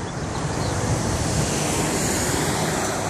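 Steady surf and breeze at Surfers Point beach in Ventura on a cool day, a continuous broadband wash of breaking waves with wind noise, loud and unbroken.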